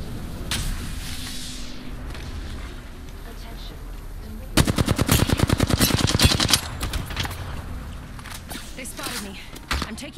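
Video game gunfire from Apex Legends rattles in a rapid automatic burst of dense, close shots, with quieter scattered shots and game sounds around it.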